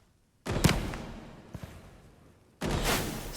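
Two bursts of gunfire from a low-recoil gun in the shooter Project Silverfish, a long rattling volley then another after a short gap, moderately loud with no voices.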